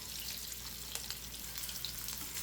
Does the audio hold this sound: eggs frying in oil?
yes